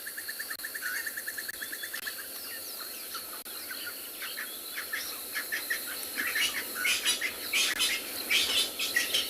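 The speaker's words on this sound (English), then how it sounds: "Can you hear all the birds?" A busy chorus of birdsong fills a Kalahari reserve at sunset just after rain, with many overlapping chirps and trills at moderate distance over a steady bed of insect buzzing, rising livelier toward the end with no voices.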